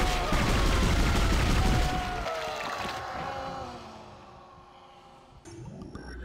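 Gunfire in the Dead Space video game: a dense burst of rapid shots for about two seconds, then fading echoing tones and a quieter stretch before a short sharp return near the end.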